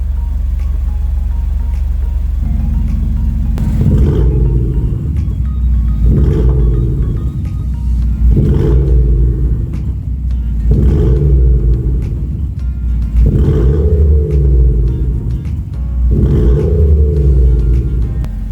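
Car engine with variable exhaust and active sound exhaust both switched on: a loud, steady low exhaust rumble, then about six repeated throttle blips that rise and fall in an even rhythm. No talking.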